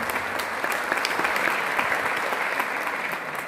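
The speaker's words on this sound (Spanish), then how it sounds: "Sí, un aplauso para el querido maestro." Audience applause for a music composer at the Premios Graffiti 2020 awards ceremony: dense, steady clapping from a full hall that fills the whole stretch without a break.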